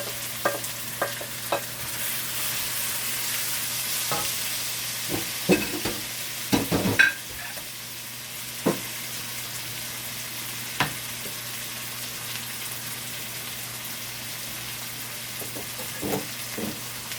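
Peppers and tomatoes sizzle in a hot pan under a steady frying hiss, with scattered scrapes and clinks of a utensil stirring them.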